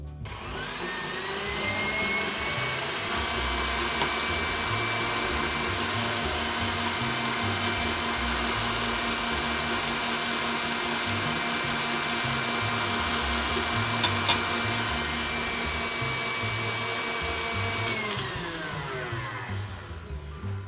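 An electric mixer whips egg whites for meringue while sugar is added a little at a time, a loud, steady motor whine running unbroken for nearly the whole stretch before winding down at the end.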